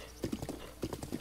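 Horse hooves clip-clopping at a steady gallop across ground in Breath of the Wild, with repeated close, fairly loud footfall clusters and no talk.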